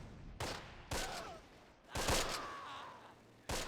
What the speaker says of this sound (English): Fired off 40 rounds with the MG